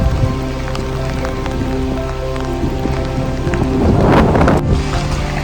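Steady heavy rain at night in a large park in Bucharest decorated with Christmas lights, a dense close patter on surfaces that swells briefly near the end, with no talk.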